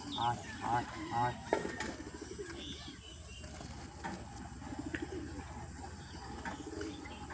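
Pet pigeons cooing at close range while being fed, soft repeated coos mixed with faint pecking and shuffling, under a person's intermittent speech.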